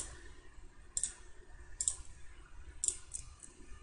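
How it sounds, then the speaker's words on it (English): A computer mouse clicks three distinct times at a relaxed, uneven pace, close and fairly quiet over faint room noise. No one talks. "when we click on text"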